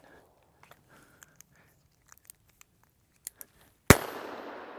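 A LifeCard .22 Magnum pistol is handled with a few small, scattered clicks of loading, then fires one sharp, loud, close shot whose report rings and decays over the final second.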